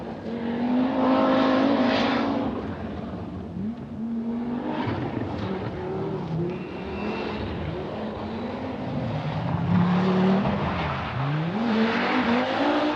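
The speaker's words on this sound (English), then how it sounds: "Blomqvist's turbocharged Audi Quattro took the hill in its stride" A turbocharged Audi Quattro rally car climbs a winding hill road, its engine rising and falling through gear changes at a moderate distance, steady and loud throughout.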